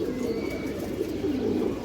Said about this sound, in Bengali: এই যে দেখেন কবুতর দেখেন আপনারা